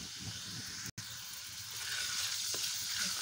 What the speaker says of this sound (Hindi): अब हमारा जो चिकन है वो डाल दें। हल्की आंच पे इसको थोड़ी देर के लिए पकाना है।